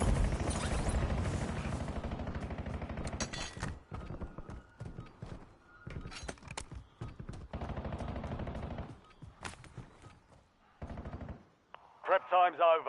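Rapid machine gun bursts in Call of Duty Warzone, several loud rattling volleys broken by short pauses, with shorter gunshots and game sounds in between.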